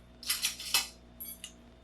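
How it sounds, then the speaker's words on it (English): A plastic spoon scrapes and stirs through melted soap in a container at home, producing several close, bright clattering strokes followed by two lighter taps. "Right now, I think I'm going to just use a plastic spoon."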